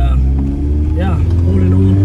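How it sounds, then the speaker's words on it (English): A VW MK1 hatchback fitted with a 272 cam idles and revs close by, a loud lumpy low rumble with a brief rise in pitch midway, while a person talks over it. "The car sounds absolutely amazing"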